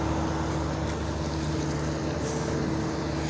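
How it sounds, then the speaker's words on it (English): Small tractor plowing snow from town sidewalks, heard as a steady, droning engine hum with a constant low tone, running without pause and no voices. "here's a dude in a freaking little tractor. Plowing the sidewalks"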